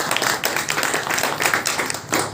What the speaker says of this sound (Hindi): पांडे जी के लिए जोरदार ताली।